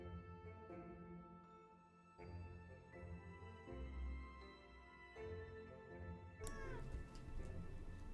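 Domestic cat meowing repeatedly nearby, several drawn-out, wavering calls spread across the stretch, some rising into caterwaul-like whines, with a faint background hum.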